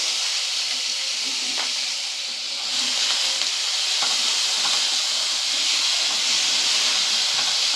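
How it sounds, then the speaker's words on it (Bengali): Grated ginger and onion frying in hot oil, with bay leaves already in the pan, giving a constant loud sizzle and hiss close by, with a few small clatters on top. "আদা আর পেঁয়াজটাকে ভালো করে একটু ভেজে নেব।"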